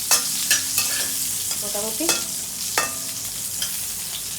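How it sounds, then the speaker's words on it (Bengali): Eggplant fries with nigella seeds in a pan, a steady soft sizzle broken by several sharp clinks and scrapes of a utensil stirring against the pan, while a voice speaks briefly. "কালো জিরে দিয়েই ভেজে নিচ্ছি"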